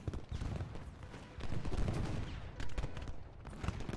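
Cannon and musket fire in the Civil War strategy game Ultimate General: Gettysburg. Muffled, rolling volleys and booms come in overlapping bursts at a moderate distance, with no talking.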